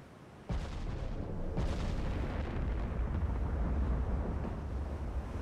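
Main guns of the German battleship Tirpitz firing in the naval game Ultimate Admiral Dreadnoughts, a sudden loud boom followed by a second blast and a long rumbling roar that does not die away.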